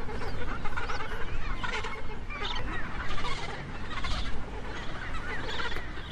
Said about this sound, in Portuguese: O barulho das asas e dos chamados cria uma atmosfera densa